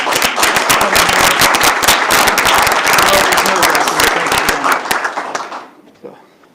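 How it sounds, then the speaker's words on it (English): School board meeting audience gives a round of applause for an automation and robotics teacher and students, dense sharp clapping that builds loud and steady, then thins out and fades near the end. "I think we should give these two a round of applause for giving us our Monday night"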